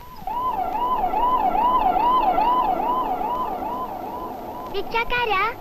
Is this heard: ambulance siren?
yes